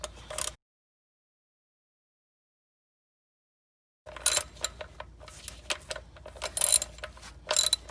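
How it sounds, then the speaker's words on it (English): A ratchet snugs up the oil drain plug on a Ford Ranger during a synthetic oil change, making a quick run of close, sharp clicks in bursts after a long stretch of silence. "So you just want to snug it up good so it doesn't leak."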